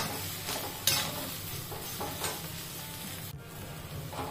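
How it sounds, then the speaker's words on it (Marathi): Salted potato chutney is stirred and sautéed in a pan, with a soft, continuous sizzle broken by occasional scrapes and clinks of the spoon, fairly quiet and close. "आणि परतवून घ्यायचं।"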